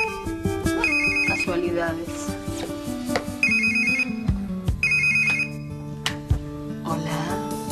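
A telephone rings in repeated electronic bursts amid a noisy indoor scene, with people talking and shouting over it at moderate volume.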